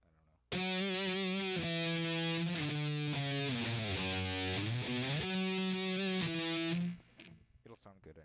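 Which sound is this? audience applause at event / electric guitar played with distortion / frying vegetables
electric guitar played with distortion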